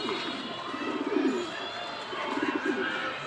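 A female racing pigeon coos softly and repeatedly at close range in two short bursts of throaty warbling over faint background noise.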